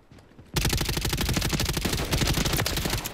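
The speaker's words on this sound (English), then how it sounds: "So I'll get one more headshot with this assault rifle" Call of Duty: Modern Warfare assault rifle opens up after a quiet half second, then keeps going as sustained rapid automatic fire with dense, loud, close reports to the end.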